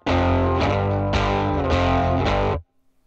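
A heavily distorted electric guitar plays a short riff of thick, sustained chords with a few sharp changes, loud and close, then stops abruptly into silence.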